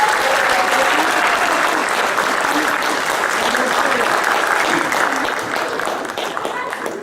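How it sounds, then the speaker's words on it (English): Sustained applause from an audience thanking volunteers, choreographers, musicians and artists, a full, even roar of clapping that fades slightly near the end. "All the volunteers, choreographers, musicians, artists deserve a big round of applause."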